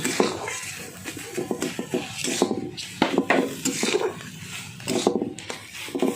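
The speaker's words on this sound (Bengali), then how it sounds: "এবার তেলটা ভালো করে একসঙ্গে মিশিয়ে নিচ্ছি" A spoon scrapes and clinks against a pan while ridge gourd peel paste is stirred together with mustard oil, with rhythmic knocks and a faint sizzle underneath.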